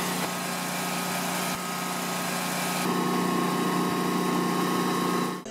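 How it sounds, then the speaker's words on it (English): A Kohler residential backup generator runs outdoors, its engine holding a steady, loud idle hum with constant vibration throughout, changing tone slightly partway through and cutting off abruptly at the end, with nobody speaking. "Once that was done, the generator started right up."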